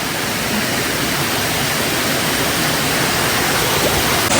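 A flowing, untouched river, a loud and steady broadband rush of water, close by and unbroken, with no voices.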